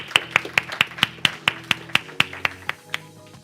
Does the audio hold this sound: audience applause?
yes